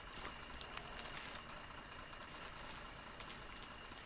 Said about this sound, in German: Hat jemand den Motor laufen lassen?